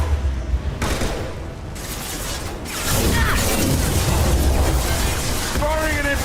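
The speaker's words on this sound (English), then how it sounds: "Taking heavy fire!" Heavy gunfire and explosive blasts from the Mass Effect video game on Insanity difficulty, a dense barrage growing louder and more continuous partway through, with voices talking over the combat.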